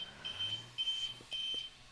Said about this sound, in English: if you hear that beeping, that's just some more issues